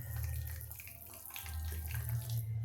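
Water pours into semolina dhokla batter mixed with Eno, a close, continuous splashing trickle with a brief dip midway, alone without talk.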